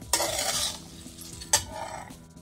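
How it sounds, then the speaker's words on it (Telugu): Dry seeds roasting in a kadai over a medium flame, two short bursts of sizzle and rattle as they are stirred, with quieter scraping and clinks between. "సిమ్లోని మీడియంలోని పెట్టుకొని జాగ్రత్తగా వేపుకుందాం ఈ గింజలండి"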